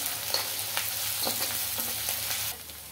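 Onions with ginger garlic paste fry in a pan for chicken fry, giving a steady close sizzle broken by several soft scraping stirs.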